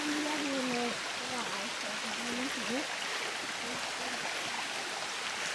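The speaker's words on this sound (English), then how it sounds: "And now we're at Munising Falls." Steady broadband rush of Munising Falls, a waterfall at Pictured Rocks National Lakeshore in Michigan, heard as a constant moderate roar with birdsong chirping faintly over it early on.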